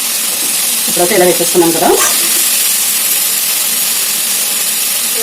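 A pressure cooker holding washed jowar (sorghum) hisses steam in a steady, loud, unbroken rush, while someone briefly speaks over it near the start.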